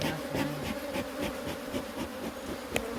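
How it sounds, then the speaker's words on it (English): Honeybees buzz in a hive box of Aloe bees during an inspection, a dense layered drone close by with wavering pitch and small pulses, steady throughout and alone. "Just lots of bees hanging here as well."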